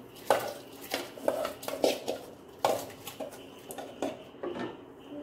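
Soaked rice goes into a pot of boiling water for paneer dum biryani, with a series of near, moderately loud metallic clinks and scrapes of a spoon against the pot at an irregular rhythm.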